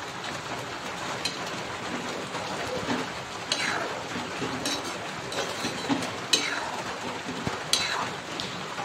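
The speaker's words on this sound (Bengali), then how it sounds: "দেখতেই পাচ্ছ এখন কিছুক্ষণ নাড়াচাড়া করে নেব" A utensil stirs fish curry in a cooking pan on the stove, giving a soft, continuous scraping and sloshing with occasional sharper clinks of metal against the pan.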